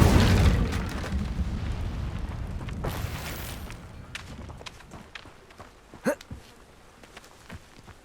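Incendio fire spell in Hogwarts Legacy bursting with a loud whooshing blast, then fading into scattered thumps and footsteps, with a sharp crackling pop near the end.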